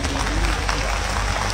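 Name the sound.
audience applause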